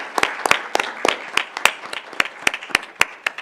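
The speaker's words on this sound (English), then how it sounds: "Let's give her a round of applause for..." Sparse applause from a small audience at a school district governing board meeting, about a dozen distinct sharp claps in a steady, uneven rhythm, fairly near and moderately loud, with no talking over them.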